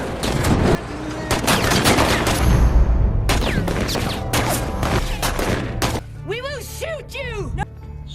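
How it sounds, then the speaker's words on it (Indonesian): A film action scene in which a vehicle is bombarded with bullets, heard as loud, dense bursts of rapid gunfire and impacts followed by quieter scattered shots, with a voice talking over the top. "kendaraan mereka dibombardir dengan peluru oleh sekelompok wanita desa"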